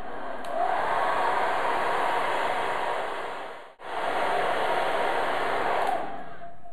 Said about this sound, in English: put the hairdryer down to one side and have another look